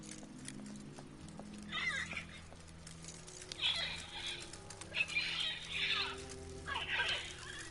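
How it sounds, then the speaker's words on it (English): Mechanical automaton birds flap their wings in the video game Syberia 3, heard as several bursts of fluttering, whirring wingbeats over a low ambient drone, moderately loud and close. "Automaton birds?"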